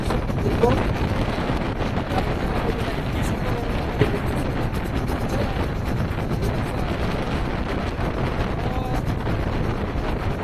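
Wooden boat ride on the Jamuna river, with steady rumbling wind and water noise buffeting the microphone throughout, heavy and continuous.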